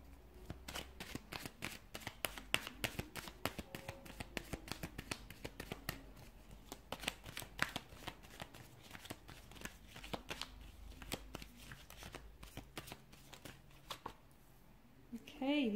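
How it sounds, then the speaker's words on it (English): Tarot cards being shuffled in quick repeated riffling bursts, close and crisp, with brief pauses between rounds of rapid flicking. "give the cards a shuffle"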